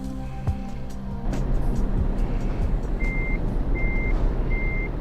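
A truck in Euro Truck Simulator 2 rumbles while reversing to park, its engine low and steady as a reversing beeper sounds three evenly spaced beeps in the second half.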